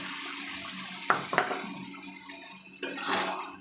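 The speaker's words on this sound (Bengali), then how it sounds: "এবার আমি মশলার জলটা দিয়ে দেবো আর ফ্যাটানো টক দইটা দিয়ে দেবো" Spiced water poured into a pan of chicken giblets with whipped yogurt, a couple of sharp splashes followed by a longer steady pour of liquid, close by with no talk.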